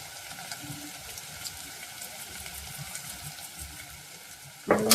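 Tomatoes with chili flakes and mixed herbs stirring and frying in a pan, a steady soft sizzle with light scraping throughout, ending in a sudden louder clatter near the close.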